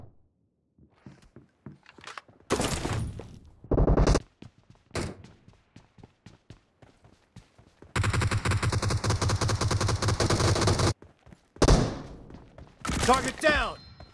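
Gunfire in a video game gun match: scattered single shots, then several sustained loud bursts of rapid fire, with short pauses between volleys.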